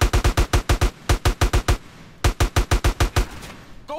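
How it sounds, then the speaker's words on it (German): Gunfire in GTA: San Andreas crackles in rapid, evenly spaced bursts. Two long volleys of loud, close shots are split by a brief pause, with no talking over them. "Und fangen wir mal an zu schießen."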